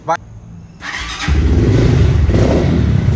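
Taro GP motorcycle engine starting, a brief click and starter whir followed by the engine catching and settling into a loud, steady idle close by.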